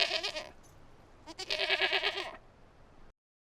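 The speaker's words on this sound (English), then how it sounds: "G-O-A-T. Goat." Goat bleating in two clear, close calls, the second longer and wavering, with no other sound around them.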